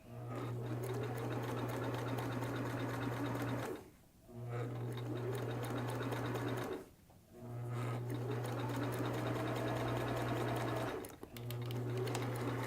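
A domestic sewing machine stitches a soft cap for a cancer patient in four steady whirring runs separated by short pauses, close and clear with a constant low motor hum and rapid needle ticking.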